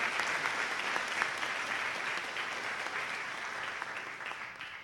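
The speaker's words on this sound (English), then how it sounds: "Let me invite some applause as congratulations for her achievement." Sustained applause from a commencement audience at an international graduation celebration, steady and dense clapping that holds for the whole stretch without speech.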